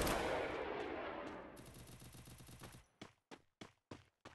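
Gunfire in the video game Free Fire: a dense, loud automatic burst rattles rapidly, then gives way to four separate sharp shots spaced about half a second apart, with no talking.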